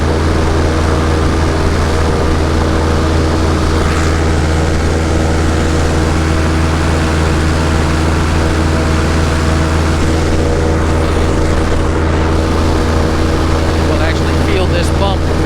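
A motorboat runs at high speed across water with a steady, loud engine roar and rushing hull noise, close to the listener, while a person talks over it.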